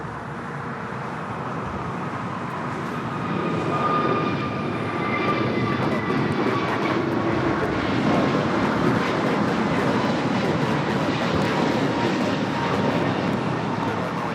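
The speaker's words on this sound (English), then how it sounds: "This is American Airlines 1659 taking off to Dallas-Fort Worth on the A321neo" An American Airlines A321neo takes off from Los Angeles LAX on its way to Dallas-Fort Worth. Its engine roar builds after a few seconds and stays loud and broad, with faint whining tones and some nearby background noise.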